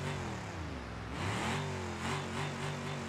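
A damaged, overheating Ford Crown Victoria engine in the driving game BeamNG Drive revs and drones close up, its pitch rising and falling in steady waves with no talk over it.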